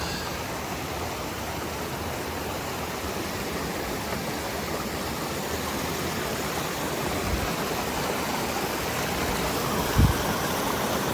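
A river along the Appalachian Trail flows with a constant broadband rushing roar, even and close, with a faint knock near the end and no speech.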